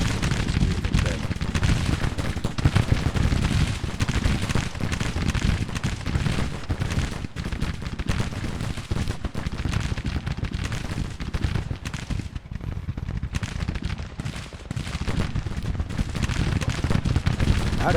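Civil War battle gunfire rattles on in the Grand Tactician strategy game, dense crackling musket volleys and booming artillery rolling continuously for many seconds, loud and busy with no pause.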